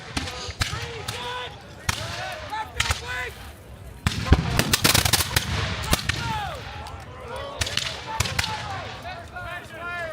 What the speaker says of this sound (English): there's the first of the British volleys. It's a long range, but that's a pretty intimidating amount of gunfire.